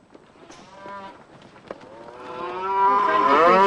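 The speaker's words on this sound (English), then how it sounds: "Sounds as if the cows are here already." Cows low nearby on a farm, starting with soft short calls and building into a long, loud, drawn-out moo at the end.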